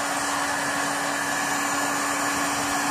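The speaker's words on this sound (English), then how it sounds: "heat gun on it, not too much." A heat gun blows hot air onto paint on a bus, giving a steady, loud, unbroken rushing whoosh with a faint hum that continues throughout without talk.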